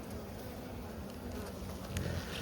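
A dense swarm of honeybees drones continuously and close by during a colony cutout, a thick, steady buzz with slight swells in loudness.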